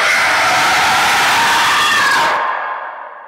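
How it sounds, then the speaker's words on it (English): A recording of a sandhill crane plays a dense, loud, rasping scream that goes on steadily and then drops off and fades after about two seconds. "Now, this is the sandhill crane. It screams."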